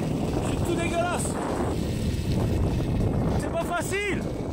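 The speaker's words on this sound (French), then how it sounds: "le vent il est fort. C'est affreux." Strong coastal wind buffets the microphone on an electric skateboard road trip along the French coast, a loud, continuous rumbling roar that swamps everything while someone speaks under it.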